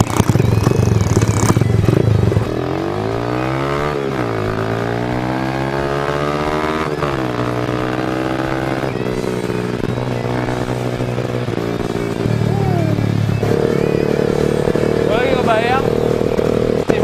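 A Mega Pro cafe racer motorcycle engine runs steadily nearby with a rising and falling tone, its note shifting through revs, while a voice talks over it at times.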